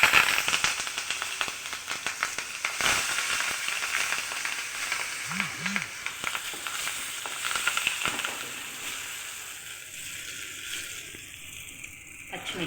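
Urad dal, turmeric and asafoetida tempering fry in hot oil for a banana fry, giving a steady, close sizzle with light crackles and stirring scrapes throughout.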